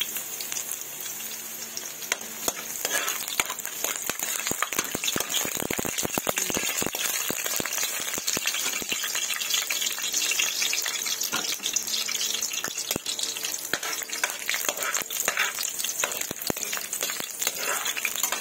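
Garlic dropped into a hot pan, a steady bright sizzle with crackling pops, close and loud throughout, with no talking.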